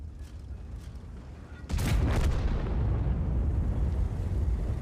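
Tank cannon fire in World of Tanks, heavy IS-7 battle: a sudden loud booming blast after quiet battlefield ambience, followed by a lingering rumbling decay, no talking.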